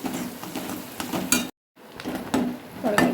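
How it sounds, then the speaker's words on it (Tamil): Curry leaves, onion and garlic sautéing in a pan for spicy chutney, with soft sizzling and scraping stirs, close by, cut by a brief moment of total silence midway before the stirring resumes. "இப்போ இந்த கருவேப்பிலையும் இதோடய சேர்த்துக்குவோம் இது மூணு நல்லா வதங்கட்டும்"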